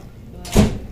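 A door swings open with a brief low thump and broadband rush in a quiet room, following soft background voices.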